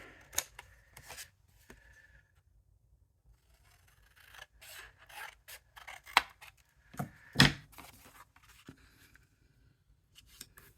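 Scissors trim card paper for a layered greeting card in short, irregular snipping bursts with crisp cutting rasps and light paper rustle, close and fairly quiet against near silence.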